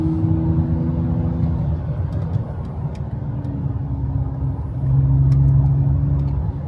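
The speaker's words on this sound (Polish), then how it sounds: "No w środku też ten wydech jest słychać, nie?" Heard from inside a moving BMW E39, a straight-through exhaust pipe gives a steady low drone that rises slightly in pitch and loudness near the end, with no talking.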